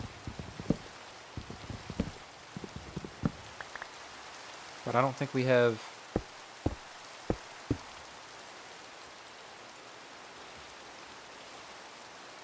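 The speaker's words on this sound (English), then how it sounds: "It's raining." Rain falling in a hardcore Minecraft plains survival game, a soft, steady hiss of pattering drops with sparse clicks and a short burst of tones, while a person talks quietly over it.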